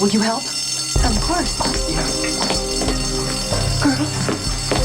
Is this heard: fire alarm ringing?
yes